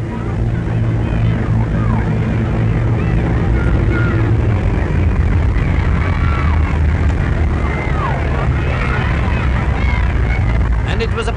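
The large Bristol Brabazon airliner comes in to land with a loud, continuous propeller-engine drone that holds steady throughout, overlaid with a voice talking.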